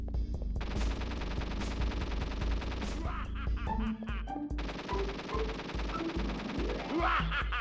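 Rapid gunfire during a cover-based shooting section of the Crash Bandicoot game, with loud repeated machine-gun-like bursts and impacts over a steady game music bed and no talking.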